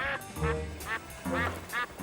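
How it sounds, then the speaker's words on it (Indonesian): Indoors at a house, a duck quacks four times in a loose, evenly spaced rhythm, close and clear. "Suara bebek."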